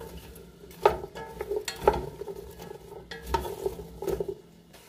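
A spoon stirs vegan bean soup in a large pot, close by, giving a series of clanks and scrapes roughly once a second over a low bubbling simmer, with no voices.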